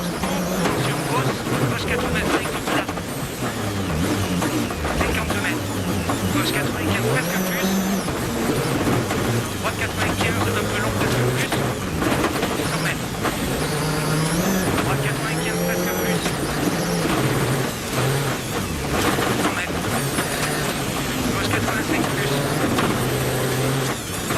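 A World Rally Championship car's engine roars and revs hard throughout on a 2004 Monte Carlo Rally stage, pitch rising and dropping with gear changes and bursts of acceleration, close and loud, with voices intermittently over it.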